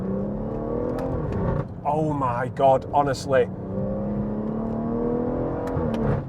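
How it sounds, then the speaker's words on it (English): A BMW M140i car engine drones with a rising, supercharger-like whine as it accelerates, a person speaking briefly over it midway. "you can hear the engine whining as if it's supercharged"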